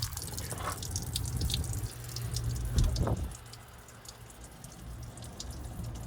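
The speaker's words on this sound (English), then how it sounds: "A little bit of a leak on that one." Water drips from a leaking fitting on a full-time RV water system, with small irregular plinks over a steady low hum and trickle, fairly close and modest in level.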